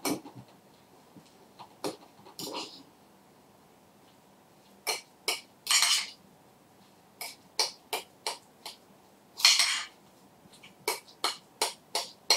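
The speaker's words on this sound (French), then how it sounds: "Et vous allez écraser l'ensemble pour bien mélanger." Tuna mousse mixed with Saint-Moret cheese being mashed in a bowl: a series of soft, separate clicking and scraping strokes in an irregular rhythm, close and quiet, with brief silences between.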